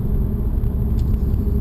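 A 2016 Subaru WRX fitted with a Nameless axle-back exhaust gives a steady, loud low rumble from close by, with no voices over it.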